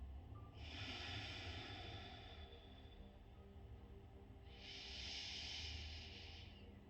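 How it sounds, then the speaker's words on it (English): Two slow, long breaths, each a soft airy hiss lasting about two seconds with a quiet gap between, taken close up while holding a yin yoga hip pose. "We're just going to take 5 breaths here."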